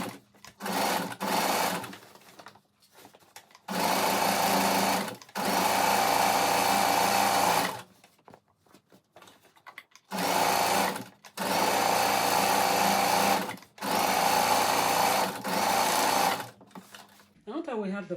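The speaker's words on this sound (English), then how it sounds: "going to be sewing across this line on the 4 sides" A sewing machine stitches along the sides of fabric Easter basket panels in several steady whirring bursts of a few seconds each, separated by short pauses, close and clear.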